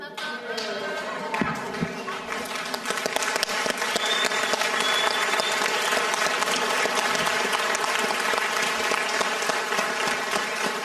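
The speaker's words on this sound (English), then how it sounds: "I just wanted to give you a standing ovation" A conference audience at a space conference gives a standing ovation, sustained applause from a large crowd that swells and holds steady, with some talk mixed in.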